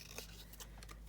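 Scissors snipping paper for a Christmas elf craft, a few quick, faint close cuts in a quiet room.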